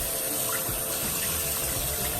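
Tap water pours steadily into a sink while cooked meat is rinsed under it, a continuous loud splashing rush with no voices.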